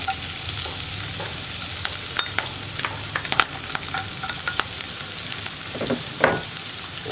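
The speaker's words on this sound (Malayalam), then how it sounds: "ഇപ്പോൾ നമ്മുടെ കടുക് പൊട്ടിക്കൊണ്ടിരിക്കുന്നുണ്ട്." Mustard seeds splutter in hot oil at the start of a flattened-rice upma, giving scattered sharp pops and crackles over a soft, steady sizzle, fairly close and with no talking.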